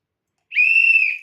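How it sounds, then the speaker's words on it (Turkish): A single shrill toy whistle blown for just under a second, a steady high tone that swells in and fades, alone against silence. "Düdüğü öttür bakayım."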